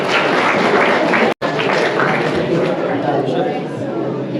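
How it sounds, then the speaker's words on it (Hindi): A school audience gives loud, sustained applause for a student honored for her exam marks, with a brief cut before the clapping carries on. "एक बार जोरदार तालियां हिमानी के लिए।"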